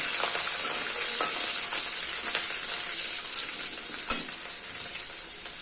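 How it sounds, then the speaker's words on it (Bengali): Slit green chillies, bay leaf, whole cumin and crushed ginger fry in hot oil in a pan, hissing in an even, close sizzle with a few soft stirring knocks and no one speaking. "এগুলোকে ভাজা ভাজা করবো"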